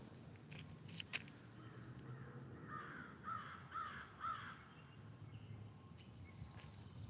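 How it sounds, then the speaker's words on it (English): A crow caws outdoors in three hoarse, raspy calls spaced about half a second apart, moderately distant over steady background noise with a few faint knocks. "That poor crow."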